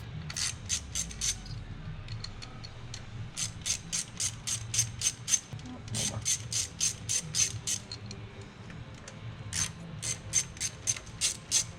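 Ratchet wrench clicking in quick bursts as it loosens the 10mm ignition coil bolts on a Hyundai Elantra Sport 1.6L turbo engine, several rapid runs of sharp pawl clicks separated by brief pauses, close and fairly loud.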